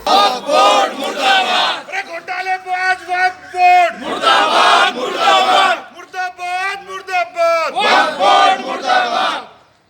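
Protesting party workers chanting in unison outside the Waqf Board office in Aurangabad, loud rhythmic call-and-response slogans in several bursts, close and forceful.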